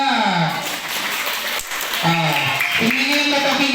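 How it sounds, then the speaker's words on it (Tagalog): A church congregation applauds with a steady wash of clapping that fills the whole stretch, while a voice talks over it. "Pumalakpak."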